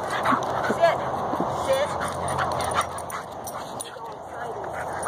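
Dogs yip, bark and whimper in short bursts nearby, mixed with people talking over a noisy background.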